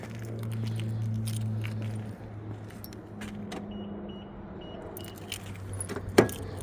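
Car keys jangle and scrape in a Camry passenger door lock that won't unlock with the key, metallic rattles over a low engine-like hum, ending with a sharp click.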